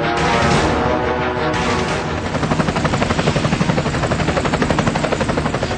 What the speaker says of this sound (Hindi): मोदी का हेलीकॉप्टर बनारस हिंदू यूनिवर्सिटी के हेलीपैड पर उतरेगा।